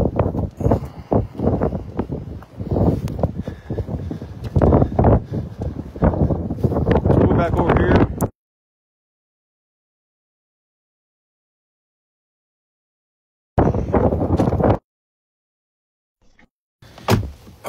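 Strong 40 mph wind with 50 mph gusts at a Lake Erie marina on a cold day buffets loudly in rough, pulsing bursts, then drops out abruptly and returns in short blasts.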